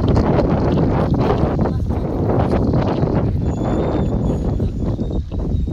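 Strong habagat monsoon wind roars and buffets the microphone in a constant loud rush, with gusts swelling and easing and faint voices partly buried beneath it.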